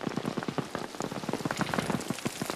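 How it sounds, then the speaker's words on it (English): Rain starting to fall in a war film scene from Saving Private Ryan, a dense patter of drops striking surfaces with sharp, uneven taps close by, steady and fairly loud with no voices. "One scene in Saving Private Ryan opens with the beginning of rainfall."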